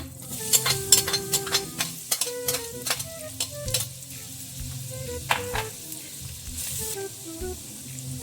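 Garlic sizzling in a frying pan, a steady crackling fry broken by repeated quick metal stirring strokes close by, over faint tonal background sounds.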